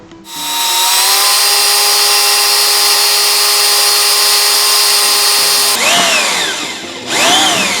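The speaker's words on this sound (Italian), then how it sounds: "prenderemo un trapano e con una punta da 3 mm andremo a forare." A power drill with a 3 mm cobalt bit whirs steadily at high speed for several seconds, then pitches down and revs up again in short bursts near the end.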